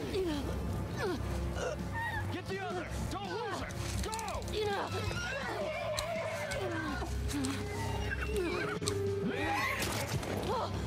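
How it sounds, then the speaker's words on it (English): A horse in a video game neighs and whinnies repeatedly in loud, wavering calls, mixed with hoof clip-clop and game sounds while people talk over it. "seriously, you had to kill the horse?"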